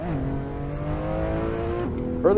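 A car engine in Assetto Corsa on the Pikes Peak hill climb revs steadily through a gear, then shifts with a drop in pitch and climbs again, heard close and fairly quiet; a brief tyre squeal comes at the end.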